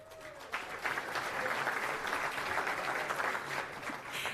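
An audience at the PACE breakfast applauds for Mayor Spencer Schlossnagel of Friendsville, a full, even round of clapping that starts abruptly and holds for several seconds at moderate distance.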